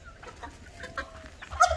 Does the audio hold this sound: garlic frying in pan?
no